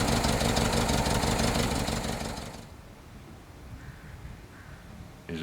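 An engine fitted with a plasma reactor runs at a loud, steady idle for a few seconds, then is shut off and drops to a low, quiet background.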